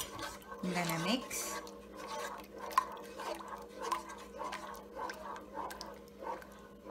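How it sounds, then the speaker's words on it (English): Eggs being mixed into dough in a bowl, making soft wet squishing and light tapping noises in an uneven rhythm, fairly quiet, while a person speaks briefly at the start. "then I add the eggs, and then I'm gonna mix"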